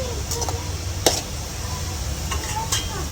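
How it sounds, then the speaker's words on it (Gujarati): Gram flour dumplings fry in hot oil with a steady, close sizzle, joined by a few sharp clinks of a utensil against the pan. "મિત્રો, આને તેલમાં ફ્રાય કરી નાખવાની છે પહેલાં"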